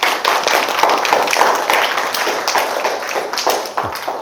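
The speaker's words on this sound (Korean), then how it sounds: "이순신한테 박수 한번 쳐주세요." A lecture audience at a Korean history talk on Admiral Yi Sun-sin claps together, a moderately dense patter of hands held steady for several seconds, close and fairly loud, with a thud near the end.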